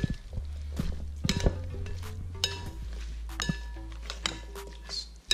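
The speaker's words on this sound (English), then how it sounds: "Mix up everything, just like this." Pasta salad with spring onion being tossed in a bowl, with repeated clinks and soft knocks of a utensil against the bowl, close and irregular over a low background rumble.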